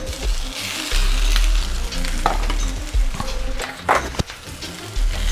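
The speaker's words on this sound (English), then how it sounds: "give that a good old stir around" Beef birria ingredients stirred in a pot, with a steady sizzle from the pan and occasional scraping and clinking of the spoon against the pot, close and fairly loud.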